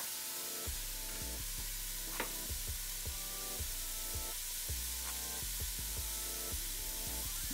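Oil poured into a hot, slightly dry pan while cooking chicken lo mein gives a steady, close sizzle, broken by scattered clicks and scrapes of stirring.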